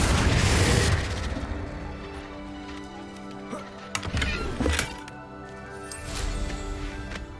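Confringo blast spell in Hogwarts Legacy, cast at training dummies: a short burst at the start, then a moderate booming explosion with a rumbling tail around the middle, over a background music bed.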